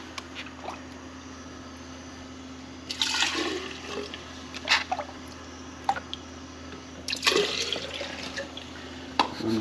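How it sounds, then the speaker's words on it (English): Salt water from an aquarium tank is poured into a homemade macroalgae reactor, coming as two short gushing bursts of liquid over a quiet background, with faint drips between them. "Now I'm gonna pour it in the reactors. So I'm gonna add some water over here from the tank."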